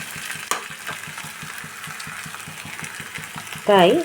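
Spice masala fries in oil with potatoes for potato dum, giving a soft steady sizzle with light rhythmic stirring knocks, and a voice breaks in near the end.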